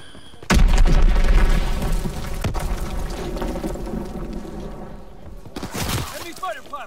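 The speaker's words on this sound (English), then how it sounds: "Enemy bomb incoming." A bomb explosion in the World War II shooter Call of Duty: WWII bursts in loudly and sharply, then rolls on as a long rumbling tail under other battle noise before a second blast near the end.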